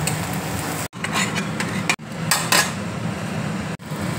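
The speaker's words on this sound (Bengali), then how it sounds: "এবার আমি একটা প্লেটের মধ্যে তুলে নিচ্ছি।" Pieces of fried egg are scraped and lifted from a frying pan onto a plate in a home kitchen, giving close, repeated clinks and scrapes of utensil on metal and dish with brief pauses between.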